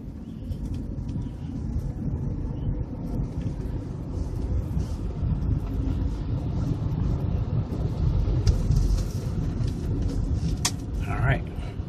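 An Acura Legend driving gently down a hill, a steady low road and engine rumble with tire noise running throughout, with a few faint higher chirps near the end.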